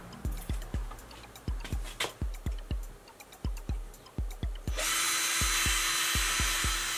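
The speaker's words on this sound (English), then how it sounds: "So let's clap them together and drill through both." A power drill bites in short repeated bursts, then runs in one continuous high-pitched grinding whine through metal, close and fairly loud.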